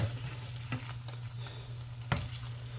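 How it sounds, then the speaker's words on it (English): Hot oil sizzles and crackles steadily as chicken fries on high heat for firecracker chicken, with a low hum beneath and a couple of sharper spits. "you're going to want to put the chicken in the oil on a high heat"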